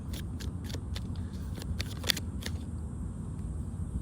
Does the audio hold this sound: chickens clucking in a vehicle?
no